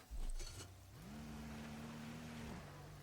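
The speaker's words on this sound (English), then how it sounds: "the engine that I have back here is my upgraded engine, so it does have the more power" An upgraded vehicle engine in Scrap Mechanic starts and holds a steady droning hum, moderately loud and even for about two seconds, then drops to a lower idle tone after a brief noisy burst at the start.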